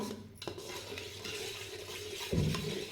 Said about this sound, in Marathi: आता एकसारखं हलवून घ्यायचं जोपर्यंत वर फेस आल्यासारखं होत नाही तोपर्यंत हलवून घ्यायचं